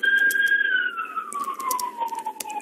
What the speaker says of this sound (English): now we can hear more police cars and ambulances are coming